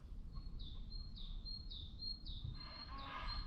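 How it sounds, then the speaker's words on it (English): Birds call outdoors along the River Bure on the Norfolk Broads in winter, with a run of five or six repeated, evenly spaced high chirps over quiet background hiss and a brief rustle near the end. "Can you hear all the bird life?"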